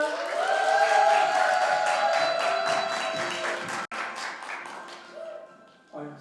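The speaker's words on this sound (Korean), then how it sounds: "여러분의 큰 함성과 박수 소리로" A crowd at a 2024 Korean talk concert cheers and claps, a bright, full wash of applause over sustained tonal sound that gradually tapers, with a brief voice near the end.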